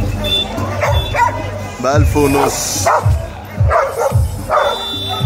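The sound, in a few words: dog barking at a dog market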